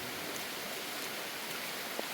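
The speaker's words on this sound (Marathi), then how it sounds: "जोरदार पाऊस." Steady, even hiss of rain falling near a hidden waterfall at Kasarvadavli, a faint, continuous wash of water with no distinct drops standing out.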